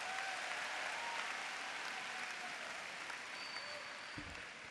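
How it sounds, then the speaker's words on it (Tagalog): Audience applause at a Filipino TESDA scholars' recognition event, a steady wash of clapping that holds evenly throughout at moderate, slightly distant level, with no talk over it. "Palakpak naman po!"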